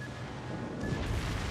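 Secondary guns on a warship fire in World of Warships, a dense low rumbling barrage of gunfire that builds slightly toward the end, with no talking.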